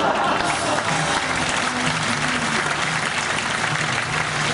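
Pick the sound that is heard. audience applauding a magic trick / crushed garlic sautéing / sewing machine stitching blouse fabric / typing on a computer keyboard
audience applauding a magic trick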